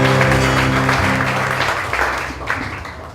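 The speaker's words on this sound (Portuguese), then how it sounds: "Uma salva de palmas, Jesus." Audience clapping at a church-style book launch evening, starting loud over a fading sustained musical tone and thinning out toward the end.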